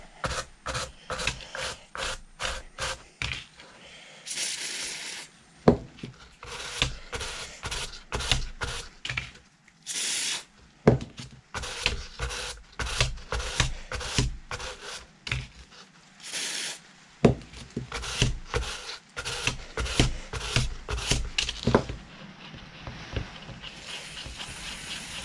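A stiff brush scrubs a steering rack part from an MX5-based Locost build in quick, rhythmic back-and-forth strokes. The scratchy bursts come in rapid runs, separated by short pauses.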